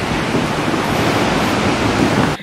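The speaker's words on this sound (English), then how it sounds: "you're probably gonna hear like the wind beating around my building" Gusty storm wind beating around a building, heard as a dense, continuous roar of broad noise that stays loud and fairly steady for a couple of seconds before dropping off at the end, with no speech.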